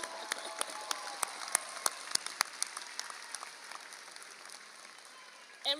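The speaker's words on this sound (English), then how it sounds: "We should be clapping, every single one of them" A graduation audience at the Louis E. Dieruff Class of 2023 ceremony claps in sparse, scattered bursts, some sharp individual claps standing out over a soft wash of applause, fairly distant in a large hall.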